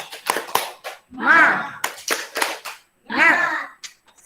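A group at a school in-house teacher training session performs the 'tepuk semangat' spirit clap: short, sharp bursts of rhythmic clapping, close and loud, alternating with loud shouted group chants in between.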